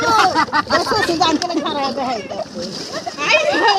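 Several people bathe in the Padma river, splashing water continuously over a steady babble of children's and adults' voices, close and lively throughout.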